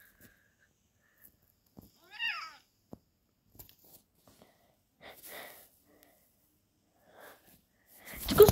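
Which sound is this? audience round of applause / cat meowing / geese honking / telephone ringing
cat meowing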